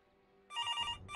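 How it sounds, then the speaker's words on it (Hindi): A telephone rings in a Pakistani television drama scene, the bell starting halfway through and repeating as a bright, loud trill over a quiet room, with a short gap before it rings again. "जामी फोन उठाओ, मेरा सीन खराब हो जाएगा"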